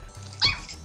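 A single dog gives one short, sharp bark, close and fairly loud, standing out briefly against low background hum.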